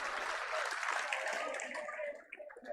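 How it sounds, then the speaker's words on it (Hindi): Crowd applause at an outdoor farmers' political rally in Vijaynagar, Rajasthan, a dense sustained clapping that tapers off near the end, fairly distant and moderate. "इन बात ही थे तालियां बजाओ सब निष्ठावान सिपाही"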